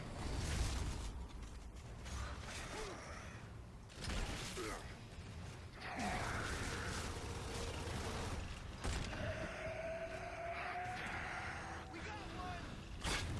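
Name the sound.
crane and conveyor belt machinery in Gears of War 3 video game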